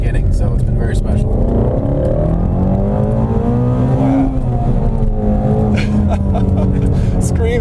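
A 2016 Ford Mustang Shelby GT350 with a 5.2-liter, 526-horsepower engine revs hard, its loud, steady roar climbing and falling in pitch close by, with someone talking over it.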